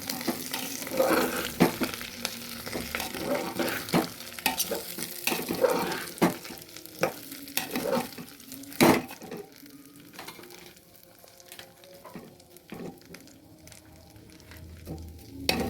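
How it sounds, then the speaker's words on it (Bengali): Rice frying with whole spices in a pressure cooker for vegetarian basanti pulao, a ladle scraping and clacking against the metal in repeated strokes over a steady sizzle, close and without speech. "গোটা মশলাগুলো ভাজা হয়ে গেছে এবার দিয়ে দিচ্ছি চালগুলো"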